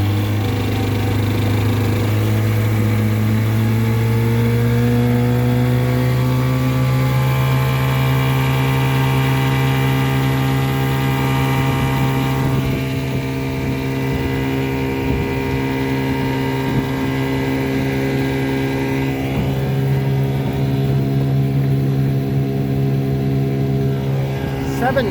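A 1958 Sea King 5 hp outboard motor drives a 14-foot boat, its steady engine drone holding close and loud throughout with a low rumbling pitch that shifts slightly as it runs.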